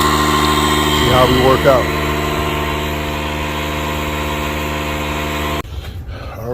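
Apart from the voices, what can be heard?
air pump inflating a Tesla Model Y tire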